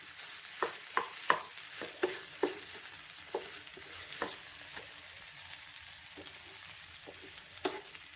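Egg paneer roast being stirred gently in a pan, a spoon giving soft scraping taps at irregular intervals over a faint steady sizzle, close and fairly quiet with no talking.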